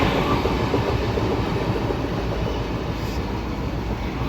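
An Indian passenger train rolling past near Jalandhar, its coaches including one in Humsafar livery, a loud continuous rumble and rattle of wheels on track that holds steady throughout.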